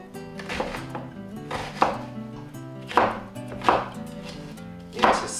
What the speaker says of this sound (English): So what we're going to do is we're going to do this slicing it straight down